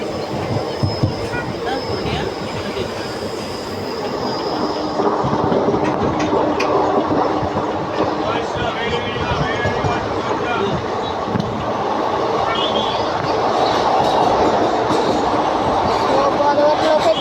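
The Circar Express from Kakinada Town to Chengalpattu rumbles across the Godavari bridge in a steady loud roar, with wheel clatter and faint squeals throughout and voices occasionally heard over it.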